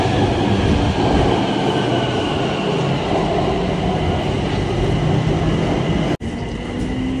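A train pulls into a station on the Bangkok rail line, a loud rumbling roar of railcars with clattering wheels and a rising wheel squeal near the end, no voices.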